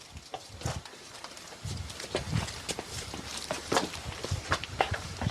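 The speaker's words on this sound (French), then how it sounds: "J'ai entendu des bruits de pas dans la maison." Footsteps inside a house, a series of irregular soft thumps and scuffs at close to moderate distance, with faint creaks over a quiet background.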